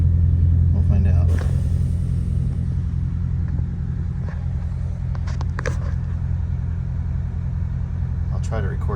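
A bus engine idles with a deep, steady low rumble, then labors as it begins climbing a hill, with faint rattles and clicks around it and a voice talking over it at times.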